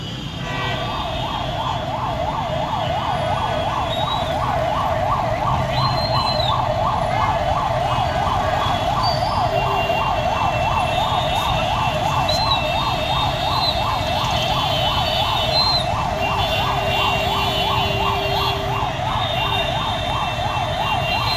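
Fire engine siren wailing continuously and loud at a showroom fire, a rapid repeating up-and-down tone over traffic rumble, with no talk.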